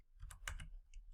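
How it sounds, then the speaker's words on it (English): A computer keyboard is typed on with one hand, giving a few soft, close clicks in an irregular rhythm, faint and brief with no talking. "I'm typing with one hand because my mic is in the way"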